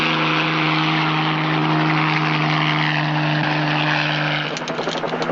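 A police helicopter in flight near Mount Vista, its steady rotor and engine drone loud and continuous throughout, with rapid choppy blade pulses growing stronger toward the end.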